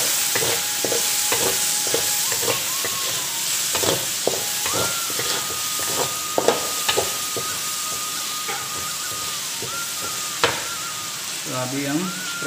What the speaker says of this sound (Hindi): थोड़ा मिक्स करेंगे।